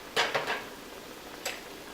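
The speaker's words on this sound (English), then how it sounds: "we're just going to uncover our pan" A lid lifts off a cooking pan of quesadilla filling with a quick cluster of three light metallic clinks, then one more clink a second later over quiet room tone.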